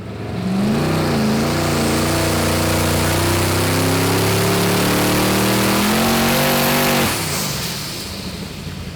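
A HEMI big-block Indy V8 on a dyno drones loudly and steadily at high revs, its pitch rising slightly and then shifting before it cuts back, with no talking.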